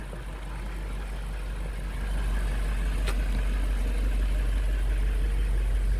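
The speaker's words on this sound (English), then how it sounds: "You can hear that engine ticking over." A 2021 BMW X5 M Competition engine idles with a steady low rumble, growing slightly louder after a couple of seconds, with no talking.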